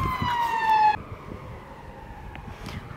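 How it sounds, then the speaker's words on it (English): An ambulance siren sweeps past on a street in York, loud and wailing for about a second, then cut off abruptly and followed by faint street noise. "there's an ambulance coming down the road"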